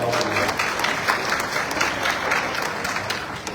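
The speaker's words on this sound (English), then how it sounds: "Let's give them a round of applause." Graduation ceremony audience breaks into sustained, even applause, a dense wash of many hands clapping throughout with a faint voice underneath.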